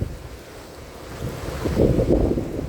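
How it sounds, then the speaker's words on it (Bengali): Strong cold wind sweeps across a rooftop on a rainy winter day, producing a loud, low buffeting rumble against the microphone that swells toward the end of a short stretch, with no voices. "প্রচন্ড প্রচন্ড ঠান্ডা বাতাস"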